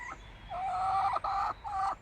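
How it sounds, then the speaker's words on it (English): Chickens give a few short, nasal clucking calls in quick succession, fairly close and clear with no talking. "chickens!"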